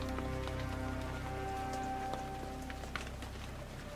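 Steady rain in Roblox ERLC patters continuously across a surface, a dense hiss with scattered drop ticks, while faint tonal music hums underneath.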